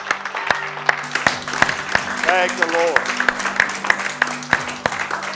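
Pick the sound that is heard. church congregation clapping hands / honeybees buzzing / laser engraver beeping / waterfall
church congregation clapping hands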